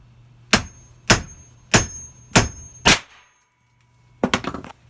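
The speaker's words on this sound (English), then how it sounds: "I'm going to see what happens when I hit the hammer." Five sharp, loud metallic bangs at a steady pace from a hammer striking a blank cartridge, followed by a final burst of rapid clattering impacts.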